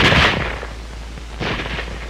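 A WWII bolt-action rifle fires two sharp, loud cracks about a second apart, each trailing off quickly, with no talking.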